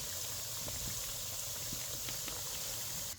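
Dal vadas, about ten or twelve at once, deep-frying in hot oil in a large kadhai, a steady close bubbling hiss with small crackles running throughout and no talk.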